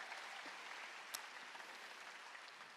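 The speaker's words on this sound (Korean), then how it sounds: "깨달은 사람아 박수 치라." A church congregation at a Sunday afternoon worship service claps together, a soft, even hiss of many hands from a distance, steady throughout with no talking.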